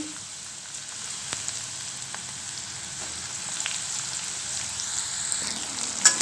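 Okra pieces frying in hot oil in a pan, a steady dense sizzle with faint crackles and stirring scrapes, close and continuous throughout with no talking.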